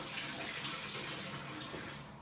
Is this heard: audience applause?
no